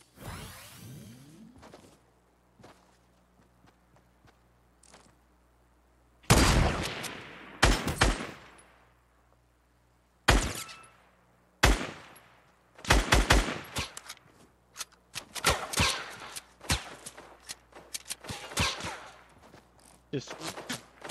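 Gunfire in Fortnite Battle Royale: several loud bursts of rapid shots separated by quiet gaps, with scattered single reports and whooshes, mostly close and unaccompanied by talk.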